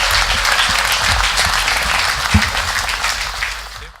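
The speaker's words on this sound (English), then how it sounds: "So I think we should put a round of applause for that." Sustained applause from an audience at a Black History activity book launch, steady clapping that fills the room for several seconds before tapering off near the end.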